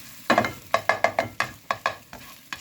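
A single jumbo egg being scrambled and chopped with a utensil in a hot frying pan: about a dozen distinct scraping taps in an uneven rhythm over a light sizzle, close and clear, with no talking.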